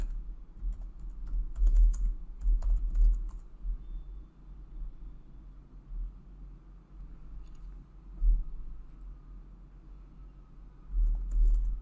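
Computer keyboard keys tapped in quick bursts while typing a terminal command, with pauses between clusters of clicks, close and fairly soft over a low background hum.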